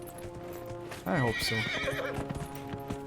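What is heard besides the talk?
horse hooves in video game Dragon Age Inquisition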